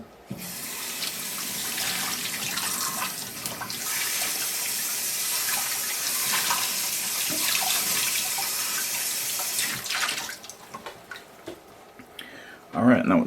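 Tap water runs steadily into a sink while a pet pump filter is rinsed, a continuous close splashing flow that lasts most of the time before cutting off near the end, with a few light ticks and knocks.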